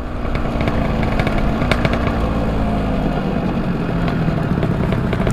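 Loud two-stroke exhaust of a Yamaha F1ZR motorcycle riding in busy traffic, a raspy buzzing drone with crackling pops throughout, close and continuous with no talking.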